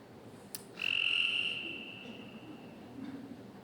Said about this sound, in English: This is a single male gray tree frog.